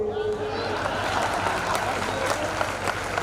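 Audience applause at a Hindi comic poetry (hasya kavi) recital, a dense sustained wash of clapping from a large crowd, steady and loud throughout with a brief voice at the start.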